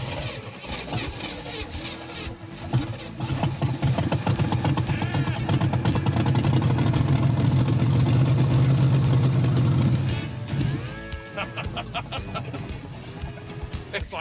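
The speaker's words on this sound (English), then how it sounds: "It's idling." A Chevrolet Chevelle hot rod's V8 starts and settles into a loud, rough idle with a low rumbling throb that holds for several seconds before easing off, and people talk nearby.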